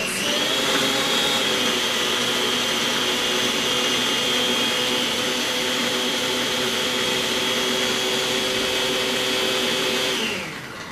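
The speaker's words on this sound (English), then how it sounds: "So we're just going to blend this up till it's smooth." A blender blending a chocolate mixture runs loud and steady for about ten seconds, a constant motor whine that winds down abruptly at the end, with no voices.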